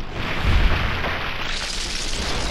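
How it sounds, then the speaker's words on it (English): An explosion in the Fallout video game, a low boom swelling around half a second in, then a steady rumbling wash of broadband noise that holds loud to the end. "Something exploded!"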